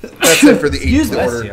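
A single loud, close sneeze bursts out among several people talking on a podcast recording, with speech continuing right after it.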